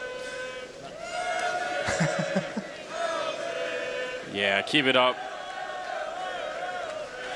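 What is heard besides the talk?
French fans cheering in the crowd at CS:GO Major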